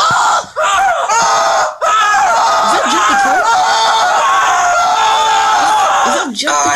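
A person imitates chicken clucking and squawking, with loud, rising and falling squeals in rapid bursts and short pauses, mixed with laughter.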